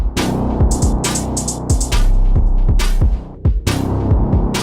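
Stereo synthesizer with non-unison voices playing a throbbing, buzzy bass sequence of repeated plucked notes, with bright hissing bursts on some beats, loud and steady with a short dip near the end.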